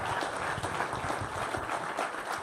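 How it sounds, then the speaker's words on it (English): Audience applause at a Las Vegas 2018 speaker event, a dense, even wash of many hands clapping at moderate volume, continuous through the short stretch, with no speech. "Can we give them an applause?"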